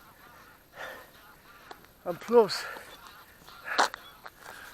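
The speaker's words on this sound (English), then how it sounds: "some geese." Geese honk outdoors along a trail run, a few separate calls at moderate distance, the loudest in the middle, while someone speaks briefly.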